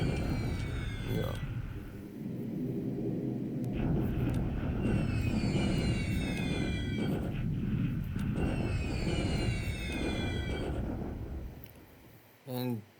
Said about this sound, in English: these are some Dutch bombers, but they're trying to escape